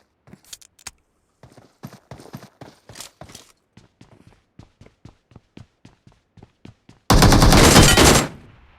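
Video game gunfire: a long run of sharp, evenly spaced shots crackles steadily, then a dense, loud burst of continuous automatic fire roars for about a second before cutting off.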